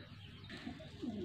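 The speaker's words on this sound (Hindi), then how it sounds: "ये कबूतर आ गया जनाब।" Pigeons kept by a breeder in Faisalabad coo softly in low throaty bursts, faint against steady background hum.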